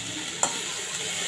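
Okra frying in a pan, seasoned with salt and turmeric, gives a steady, soft sizzle throughout, with one brief scrape or clink as it is stirred.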